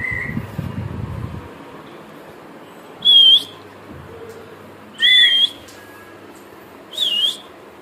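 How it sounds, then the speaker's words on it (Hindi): Three loud, clear whistle notes ring out a couple of seconds apart, each a short steady tone, after some low rumbling and soft background sounds at the start. "सीटी तो बजा एक बार देख"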